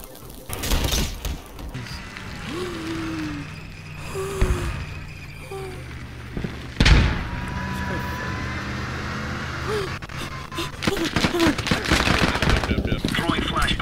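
Video game gunfire rattles in short bursts and scattered shots, loud and near at times, mixed with game effects and frequent talking from players throughout.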